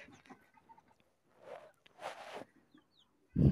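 A few soft desi hen clucks and murmurs come in short bursts against a quiet farm background, ending with a louder, sudden sound up close.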